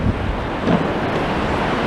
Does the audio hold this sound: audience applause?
no